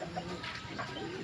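Racing pigeons released in the early morning under an overcast, misty sky at a loft, with soft cooing and bird calls over a steady outdoor background hum, moderately faint and without talk.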